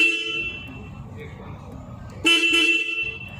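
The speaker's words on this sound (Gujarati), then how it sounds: "હોર્ન ચાલુ કરીને તમને બતાવું." The horn of a 2025 Royal Enfield Continental GT 650 twin-cylinder motorcycle sounds as a steady electric tone, up close, then rises into a louder, brighter blast near the end.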